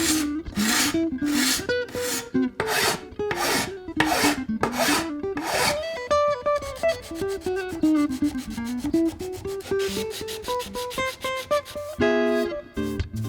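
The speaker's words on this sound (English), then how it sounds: "I will sand all the edges of the bindings both on the top and the back of the guitar" Hand sanding of the binding edges on a handmade acoustic guitar's top and back, heard as steady, close rasping strokes in a regular back-and-forth rhythm, shifting to faster, shorter rubs partway through.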